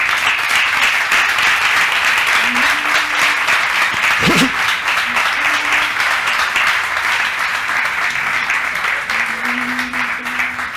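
Audience applause fills a dining room at the El Ermitaño restaurant, a dense, steady wash of clapping that carries on for the full stretch with a single sharp knock partway through.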